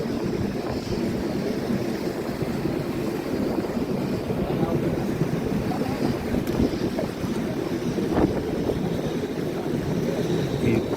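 A tour boat sailing through a Copenhagen canal: a steady, loud rumble of engine and water mixed with gusty wind noise on the microphone, unbroken throughout.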